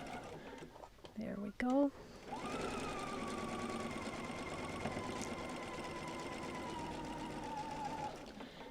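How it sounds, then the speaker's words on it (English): A sewing machine chain-pieces a quilt along a diagonal seam, running in one steady whirring burst for several seconds after some brief handling noises and a short spoken remark. "So now going to our sewing machine."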